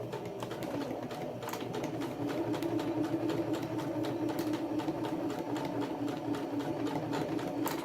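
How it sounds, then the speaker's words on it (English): A sewing machine runs steadily, stitching across two overlapped fabric tabs on a hanging storage organizer, a continuous close mechanical whir with fast regular needle clatter. "Now I'm just going to overlap these two tabs and stitch across to finish off."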